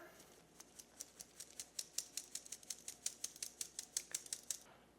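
Spices are sifted onto parchment paper for fruit cake cookie dough, producing a rapid, steady run of about twenty sharp little ticks over five seconds, close but quiet, with no talk.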